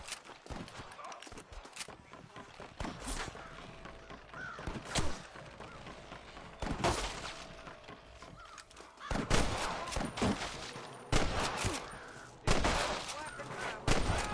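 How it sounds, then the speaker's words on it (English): Bursts of gunfire in Red Dead Redemption crackle repeatedly over a busy mix of sound effects, loud and near, some shots in quick volleys. "I can hear more gunshots."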